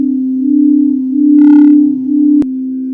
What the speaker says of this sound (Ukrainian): Кришталеві чаші це справжній музичний інструмент. Коли ми слухаємо ці звуки, вони допомагають зняти стрес